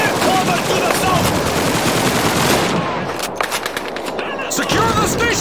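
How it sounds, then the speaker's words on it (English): MG-42 machine gun fire in a Call of Duty urban battle at Stalingrad, loud continuous rattling bursts layered with other gunfire and battle noise, briefly thinning out before resuming. "Machine gun MG-42!"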